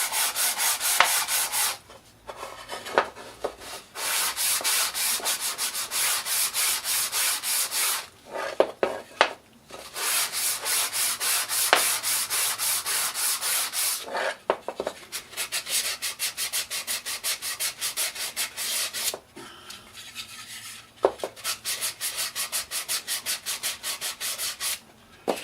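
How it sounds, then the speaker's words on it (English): A wooden sign sanded by hand in long, steady rubbing strokes, loud and close, with a few brief pauses between passes and no talking. "That's about all the sanding I do to it."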